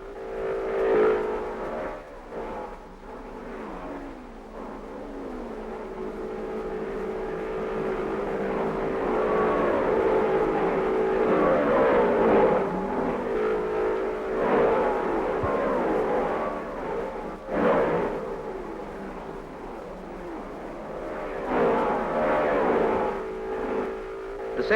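1954 Formula 1 race cars, Mercedes-Benz and Ferraris, racing past, engines droning and rising in pitch in repeated waves of revving, loud and sustained with some passes swelling and fading.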